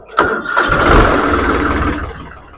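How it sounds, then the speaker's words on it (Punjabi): A 2008 New Holland 3630 TX Plus tractor engine cranks with a sharp catch and fires up, then runs in a rough, throbbing idle that settles and fades slightly toward the end, heard close with no speech. "ਟਰੈਕਟਰ ਤੁਹਾਨੂੰ ਸਟਾਰਟ ਕਰਕੇ ਵੀ ਦਿਖਾ ਦਿੰਨੇ ਆ"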